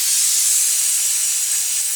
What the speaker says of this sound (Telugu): 3 విజిల్స్ వచ్చిన తర్వాత చల్లారిపోయిందండి, ప్రెషర్ అంతా పోయింది.